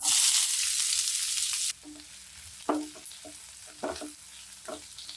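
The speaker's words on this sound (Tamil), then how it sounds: "வெங்காயம் நல்லா வதங்கட்டும் கோல்டன் ப்ரௌன் ஆகிற அளவுக்கு" Onions sauté in oil: oil sizzles loudly in a pan, then quiets to a softer frying hiss as a utensil stirs and scrapes several times.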